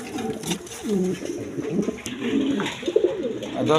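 Pigeons offered for sale in pairs with eggs and chicks, cooing and calling in a busy close group, overlapping soft throaty coos and flutters throughout, moderately loud, with a little human voice mixed in.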